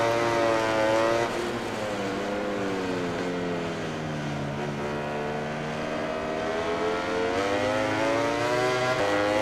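A racing motorcycle engine in MotoGP 20 holds a loud, steady high-revving whine for the whole stretch, the pitch dipping and climbing again as the bike shifts and accelerates, with no talk over it.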